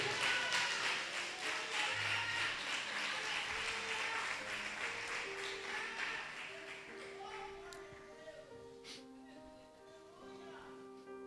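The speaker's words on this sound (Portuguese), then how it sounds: "E aplauda Ele em nome de Jesus." Applause from a church congregation during a Portuguese-language sermon on the spirit of Jezebel, a dense steady patter that fades over several seconds as tonal music and voices come through.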